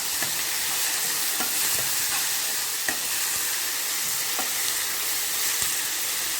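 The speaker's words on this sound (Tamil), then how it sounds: "இது நல்லா வதங்கட்டும் மூடி போட்டு மூடி வச்சிடலாம்" Steady sizzling of tomatoes sautéing in a pan for onion chutney, a constant bright hiss with occasional soft pops and clicks, no voices.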